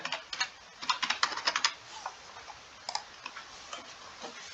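Typing on a computer keyboard while entering a phone number on an online visa application form, with close, quick bursts of key clicks, a dense flurry early on, then sparser single taps.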